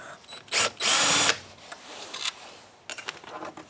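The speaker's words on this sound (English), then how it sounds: "and we'll remove the two side screws" A power driver backs out side screws from a Kirby Heritage vacuum during a fan replacement: a short, close whir that rises to a brief high-pitched buzz, followed by quieter handling noise and a faint second spin.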